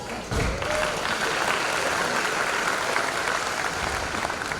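Loud, dense applause from a graduation crowd honoring an honor graduate, a continuous roar of many hands clapping at once, sustained evenly at close range without voices.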